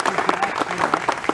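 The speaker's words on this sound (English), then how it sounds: "please have a clap" Brief, dense applause from an audience at an MoU signing ceremony for a nano entrepreneurship centre, many hands clapping close and loud in a short burst.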